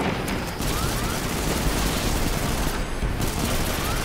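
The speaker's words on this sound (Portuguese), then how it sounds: "eu furo a bolhazinha dele com o meu fuzil" Rifle fire in Destiny 2 comes as a dense, loud, continuous burst of rapid shots, with a brief dip near the start and another pause later in the barrage.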